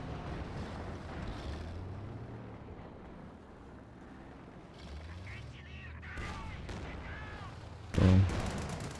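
Double Calliope rocket artillery barrage in a World War II strategy game match, a low rumbling roll of distant blasts ending in one loud close impact.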